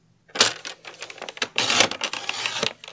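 Paper for a washi tape craft project is cut in a quick series of crisp snips and rustles, close and clear, in short uneven bursts.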